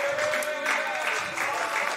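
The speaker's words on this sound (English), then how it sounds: "Begin to clap your hands unto God." A church congregation claps hands together during worship, a dense, steady wash of applause that continues without pause for the whole moment.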